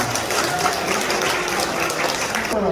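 Wedding guests at a Korean wedding clap after the groom's performance for the bride, a short burst of dense, close applause with a few faint tones mixed in, cutting off near the end.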